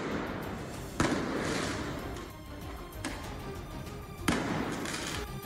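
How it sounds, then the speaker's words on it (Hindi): Firecrackers thrown at police by rioting French football fans on Paris streets go off in two sharp, loud bangs a few seconds apart over a continuous roar of crowd noise. "प्रदर्शनकारियों ने जीत पर फोड़ने के लिए इकट्ठा किए गए पटाखों को पुलिस वालों पर ही छोड़ दिया।"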